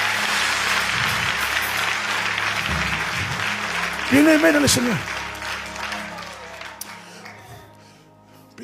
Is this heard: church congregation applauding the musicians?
yes